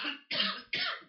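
A person with the flu coughs three times in quick succession, each cough a short harsh burst, close and fairly quiet.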